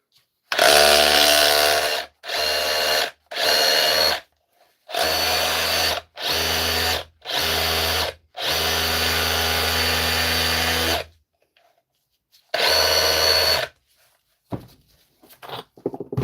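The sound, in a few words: DeWalt drill running in drill mode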